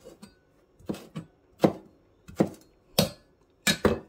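Knife chopping turmeric root on a cutting board while preparing steamed bonito in banana leaf: about seven sharp, separate thuds in an uneven rhythm, close and clear with quiet gaps between.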